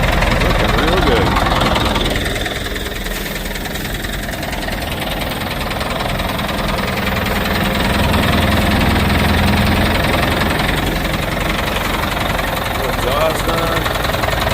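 A Caterpillar 518 skidder's diesel engine idles steadily after a Gearomatic winch seal repair, a loud, continuous rumble with slight knocking throughout, heard under occasional outdoor talk.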